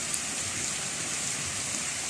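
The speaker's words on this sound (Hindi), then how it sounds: "अभी तक मुसलसल बारिश चल रही है, बारिश रुक नहीं रही है" Heavy, steady rain falls outdoors in a long spell of wet weather, a dense, even hiss of drops with no pauses, close and constant throughout.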